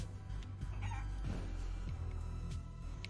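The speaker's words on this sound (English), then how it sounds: "Beware of the shadow chickens." Shadow chickens in the video game Guacamelee 2 cluck in quick, faint bursts over a steady game soundtrack and low background hum.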